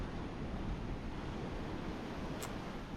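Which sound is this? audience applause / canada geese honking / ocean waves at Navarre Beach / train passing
ocean waves at Navarre Beach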